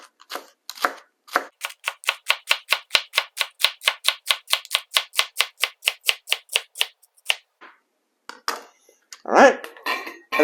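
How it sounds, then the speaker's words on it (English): A knife cuts chicken into thin strips on a board in a fast, even run of about two dozen crisp chops, followed by a few scattered knocks and a louder scraping clatter at the end. "I take my knife, and then I just cut some nice thin strips"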